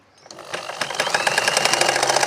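A sewing machine stitches along a saree border, starting up and settling into a loud, fast, steady run of close mechanical stitching beats with no voices.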